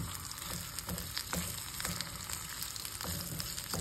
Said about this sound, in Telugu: ఇంకా ఫ్రై అవుతున్నాయి, ఇంకొక 1 మినిట్ ఫ్రై చేసి తీసేస్తాను